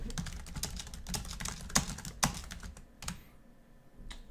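Quiet, close keystrokes tap on a computer keyboard in irregular bursts, with a few sharper clacks and a short pause near the end.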